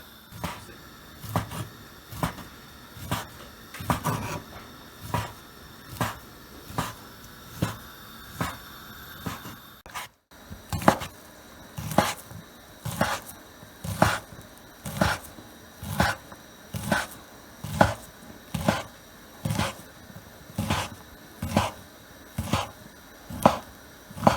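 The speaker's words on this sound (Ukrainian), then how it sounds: "зараз я це нарізаю невеличкими кусочками" Brisket being chopped into small pieces with a knife on a board, a steady run of sharp, evenly spaced chops heard up close with a short pause midway, then a regular beat resumes, no talking.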